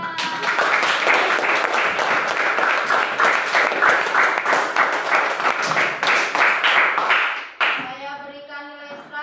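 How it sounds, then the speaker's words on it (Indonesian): A classroom of students applauds together, a dense, steady patter of many hands that stays loud for about seven seconds, then breaks off as a voice begins speaking over the fading claps. "Bagus sekali, tepuk tangan semuanya."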